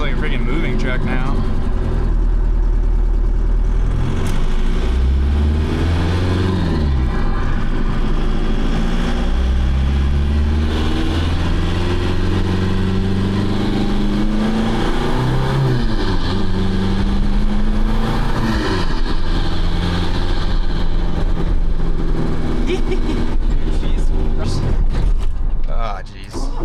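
A tuned 1.9L TDI diesel in a Mk1 VW Rabbit with a VGT turbo drones and rises through the gears while driving, a low, gruff engine note with shifting pitch under nearly continuous talk from inside the cabin.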